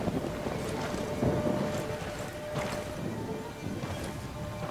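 Stormy wind blows hard and steadily in the video game Ghost Recon Wildlands, a loud, gusty rush with a few swelling gusts throughout.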